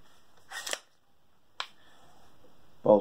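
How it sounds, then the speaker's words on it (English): Rifle bolt pulled back by hand and caught open by an extended bolt catch: a sharp metallic clack, a second brief click, then another solid clack, close and isolated with quiet gaps between. "Bolt is caught."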